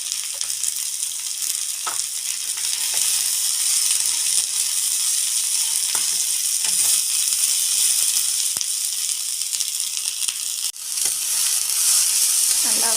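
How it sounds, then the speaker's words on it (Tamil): Cluster beans sautéing in hot oil in a pan give a steady, loud sizzle that hisses continuously throughout, with a few faint scrapes of stirring and a brief dip near the end; no one speaks. "இந்த எண்ணெயிலேயே அந்த கொத்தரங்காயும் கொஞ்சம் வதக்கணும்."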